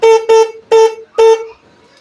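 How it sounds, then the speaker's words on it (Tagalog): Horn of a Honda XRM 125 motorcycle beeping four times in short, evenly spaced toots, close and loud, then quiet. "Yung busina, okay naman."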